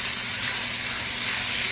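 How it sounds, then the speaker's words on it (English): Rice with Guyanese sausage and shrimp fries in a pot, giving off a constant close sizzling hiss with a soft bubbling crackle that stays steady and unbroken. "I'm gonna let this rice fry well"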